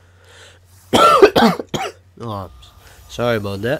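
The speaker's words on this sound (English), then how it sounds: "Can't control those coughs." A few harsh coughs and throat clearing break out up close during a Madden 16 pack opening session, followed by someone speaking briefly.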